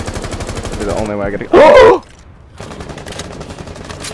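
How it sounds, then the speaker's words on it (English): Rapid automatic gunfire in Rainbow Six Siege, a dense rattling burst running under a player's voice, cut by a sharp shouted exclamation before the shooting resumes more faintly. "please let me get a lucky wall bang"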